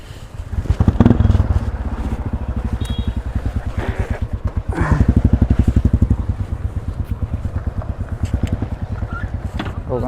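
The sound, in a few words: motorcycle being ridden onto a boat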